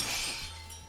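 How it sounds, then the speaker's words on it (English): A glass object shatters in a single bright, crisp crash that quickly fades into a faint tinkle. "crash it against him, and it shatters"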